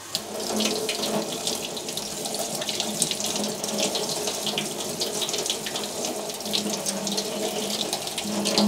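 Tap water runs steadily into a sink while freshly foraged coral fungus mushrooms, white with reddish bruise-like marks at the base, are rinsed and washed, a continuous close splashing hiss with no voices throughout.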